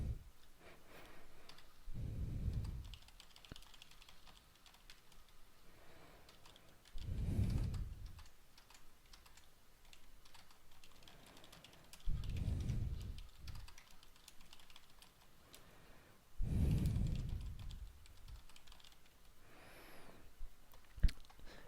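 Bursts of typing on a computer keyboard, quiet and close, with clusters of key clicks at regular intervals separated by softer pauses.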